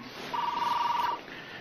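A telephone rings once in a single steady electronic tone, moderately faint over a noisy background.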